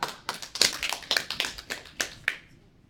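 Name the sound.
class applauding Elisa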